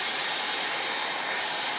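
A hair dryer blowing on fast-drying paint, a continuous close whooshing roar with no pauses throughout.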